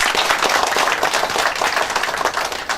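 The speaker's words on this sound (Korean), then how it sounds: "박수로 맞이해 주십시오." An audience at a policy seminar applauds to welcome a speaker, a dense steady burst of many hands clapping close by for a few seconds.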